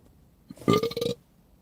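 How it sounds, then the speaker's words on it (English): A single loud, close burp, a throaty croak that lasts about half a second with no speech around it. "I'm allowed to burp."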